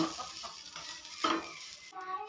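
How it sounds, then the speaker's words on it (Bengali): Grated coconut fries in a pan with cardamom and cinnamon while being stirred, making a soft, close sizzle with light scraping strokes. A brief clink comes near the end. "এবার আমি 2 মিনিট মতো নারকেল কোড়াটাকে ভেজে নেব।"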